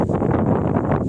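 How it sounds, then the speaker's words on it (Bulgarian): Strong, hurricane-force gusts buffet the microphone at close range with continuous, loud, rumbling roar, no voices. "ураганен вятър"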